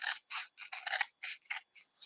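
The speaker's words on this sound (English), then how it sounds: "I am going to switch to these applique type scissors because I want to have more control over cutting this part." Applique scissors snip through fabric in a quick series of about nine crisp, close cuts, each a short bright rasp with brief gaps between, loud and alone with no talk.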